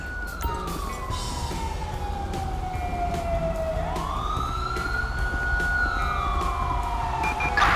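Emergency vehicle sirens in the video game GTA V wail in a slow rising and falling sweep over a steady engine rumble, moderately loud and continuous with no talking.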